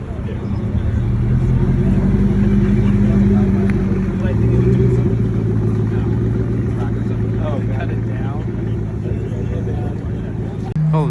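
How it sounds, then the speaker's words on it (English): A Ford GT leaving a Cars & Coffee car meet gives a loud, low engine drone with shifting pitch as it pulls away. The crowd ambience is steady and voices talk over it. "The Ford GT's leaving."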